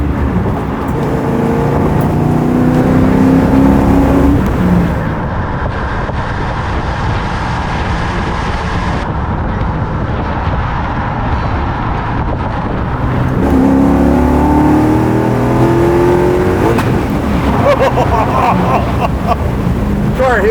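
Track-prepped 650 hp C6 Corvette Z06 accelerating hard on a race track, a loud sustained engine roar heard from inside the car with rising and falling pitch sweeps through gears, and voices talking over it.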